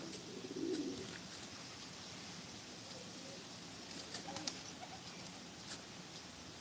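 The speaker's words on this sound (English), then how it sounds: "You ought to be glad you don't have pigeons, Maddie, as they don't eat on their own." Pigeons cooing faintly in the background, a soft low warble early on, with quiet chirps and light patter scattered over a hushed room.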